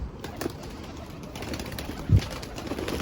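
Pigeons cooing outdoors, soft low coos repeating faintly under steady background noise, one slightly louder coo standing out briefly, with no talk.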